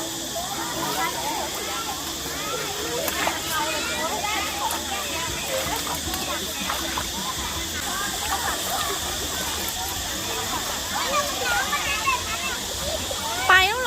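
Water rushing and splashing at the Kaeng Ma Si Mok waterfall, a steady broadband wash with scattered splashes running throughout, while people chatter and call out over it.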